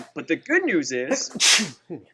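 One sharp, loud sneeze bursts out right after a man's speech, followed by a short pause and more talking.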